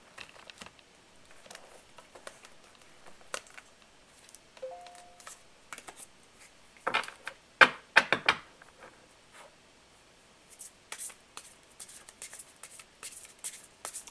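A deck of tarot cards being shuffled in scattered quick riffles and soft patters, faint and close, with a denser burst midway and light handling sounds between.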